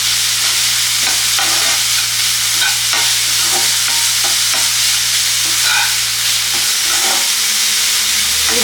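Jaggery melting in a hot pan is stirred steadily, giving a continuous close sizzle and hiss with scraping strokes, ending in a slightly quieter stretch; no one speaks.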